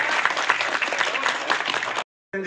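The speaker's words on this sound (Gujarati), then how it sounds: "તો જોરદાર તાળીઓના ગગડાટથી વધાવીશું બેનશ્રીનું સ્વાગત કરે છે" A crowd at a Kshatriya Rajput community gathering in Gangwa village, Danta taluka, claps loudly and densely to welcome someone speaker. The applause is sustained for about two seconds, then cuts off abruptly and briefly resumes.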